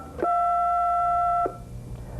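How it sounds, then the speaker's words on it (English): One steady touch-tone telephone dialing beep lasting just over a second, clear and close, with faint background hum before and after. "Those are called touch-tone phones."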